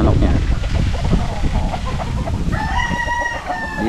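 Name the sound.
chickens clucking and rooster crowing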